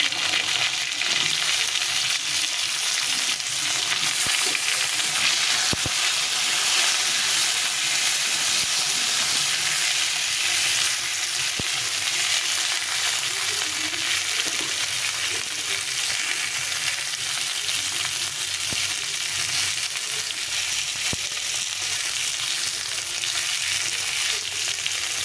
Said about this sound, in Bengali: ফুলকপিটা দিয়ে একটু ভেজে দেবো আলুর সঙ্গে।